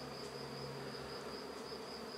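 Honey bees buzz around a hive during a busy nectar and pollen flow, a steady dense drone with a thin high whine running throughout, faint and continuous with no voices.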